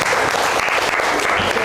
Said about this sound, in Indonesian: Baik, tepuk tangan untuk Zaidan